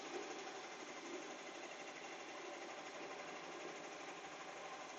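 An industrial 15-needle embroidery machine runs with a steady, even mechanical whir and rapid needle chatter, close and unbroken, with no talking.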